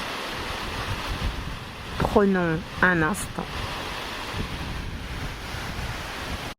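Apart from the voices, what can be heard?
wind blowing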